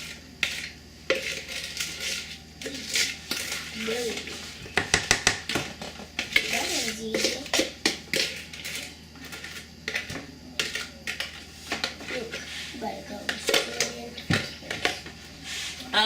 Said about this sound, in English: I am mixing it up. Like stir it around.